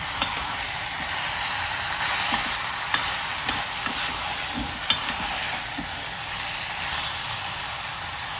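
Country chicken stirred into oil and softened onion inside a pressure cooker, with a steady close sizzle and repeated scraping clinks of the spoon throughout.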